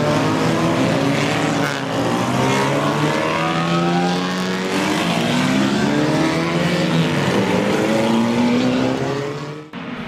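Morgan and other British vintage race cars roll out onto the Summit Point track in West Virginia, several engines revving and rising in pitch one after another, loud and overlapping as they pass close by.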